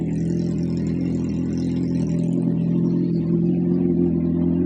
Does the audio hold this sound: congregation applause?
no